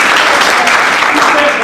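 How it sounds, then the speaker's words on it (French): Applause fills a general assembly meeting room, a steady dense patter of many hands clapping at once, with voices mixed in. "Vous pouvez applaudir."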